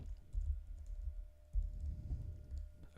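A password being typed on a Mac computer keyboard, a few soft, close key taps in two short bursts over a low background hum.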